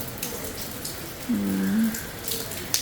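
Rain falling outdoors makes a steady, even patter and hiss throughout, with a short tonal sound rising briefly in the middle.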